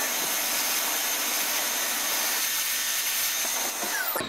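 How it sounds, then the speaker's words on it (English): A vacuum cleaner runs steadily, a loud continuous whooshing roar that holds level throughout before briefly dipping near the end. "so if you'd like, we can use the vacuum cleaner"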